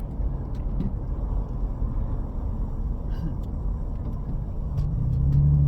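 A car drives along the road, heard from inside through a dashcam as a steady low engine and road rumble that swells toward the end, with brief talking over it.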